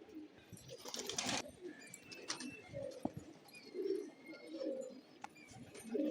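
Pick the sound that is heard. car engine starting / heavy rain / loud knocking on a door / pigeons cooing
pigeons cooing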